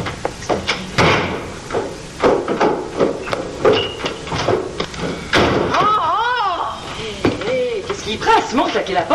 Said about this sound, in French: claquer la porte comme ça?